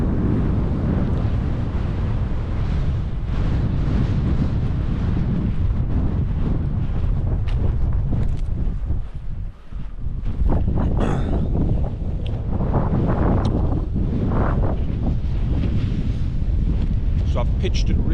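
Strong, gusty winter wind buffets a lakeside wild campsite at Angle Tarn in the Lake District, a loud continuous roar with rumbling microphone noise throughout and a brief lull midway.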